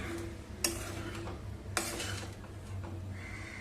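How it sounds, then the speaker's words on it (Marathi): A spatula scrapes around a pan of khichdi with two sharp clacks against the metal, over a faint steady sizzle. "1-2 मिनिटं तळापासून चांगली खिचडी एकसारखी हलवून घ्यायची"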